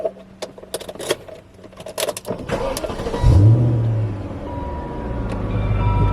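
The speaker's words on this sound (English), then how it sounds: "Let's start the car" A BMW E38 car is started from inside the cabin: a few clicks and small rattles, then the starter cranks and the engine catches with a loud rev before settling into a steady idle.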